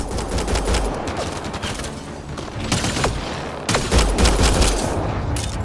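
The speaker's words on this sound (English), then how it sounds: "Just keep firing, we can do this!" Sustained automatic gunfire in a Mass Effect Andromeda firefight, dense overlapping bursts rattling continuously at close range with heavier volleys near the middle and end.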